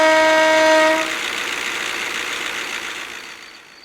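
A railcar's raspy diesel engine in Train Simulator with a loud, short horn blast over the first second, then the engine drone continues and fades away.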